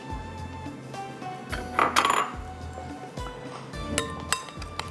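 Yogurt marinade for fish stirred in a bowl, with repeated clinks and scrapes of a spoon against the dish in an uneven rhythm, close and moderately loud, with no talking.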